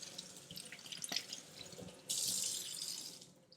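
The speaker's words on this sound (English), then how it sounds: "Then I'm just going to rinse this off." A tap runs while a rhinestone tumbler is rinsed under it, giving faint drips and clinks at first, then a steadier close stream of running water that fades out at the end.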